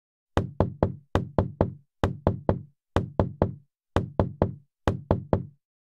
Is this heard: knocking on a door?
yes